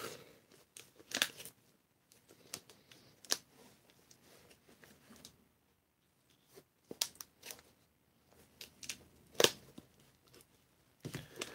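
A cardboard box is cut open with a blade, giving sparse, close crunches and short tearing scrapes separated by quiet gaps.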